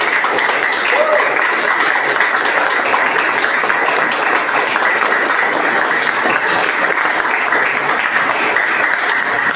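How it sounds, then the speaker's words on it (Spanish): Audience at a poetry gala gives loud, sustained applause for a poet, a dense continuous roar of many hands clapping with a faint murmur of voices mixed in. "Fuerte el aplauso."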